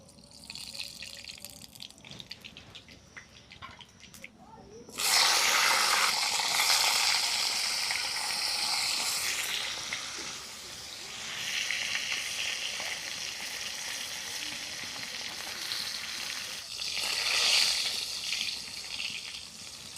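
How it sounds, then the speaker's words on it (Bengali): Pointed gourd (potol) frying in mustard oil in a hot wok: quiet at first, then a loud, steady sizzle bursts in and keeps crackling, swelling again toward the end, with no talking. "কড়ার মধ্যে দিয়ে দেবো বেশ কিছুটা সরষের তেল, আর প্রথমে কিন্তু আমি পটলগুলো ভেজে নেব"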